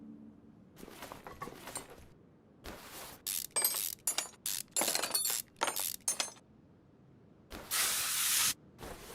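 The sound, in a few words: spraying penetrating fluid in video game Car Mechanic Simulator 2021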